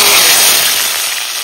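Bata fish drops into hot oil in a kadai, setting off a loud, dense crackling hiss up close that eases slightly as it settles, with no talk over it.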